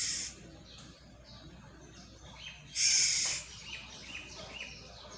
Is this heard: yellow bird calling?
yes